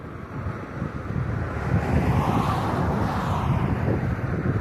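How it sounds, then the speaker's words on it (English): Strong gusting wind buffets the microphone in a continuous roar, swelling midway, at an outdoor spot with a flag; no distinct flapping is clear. "You probably even hear the flag blowing."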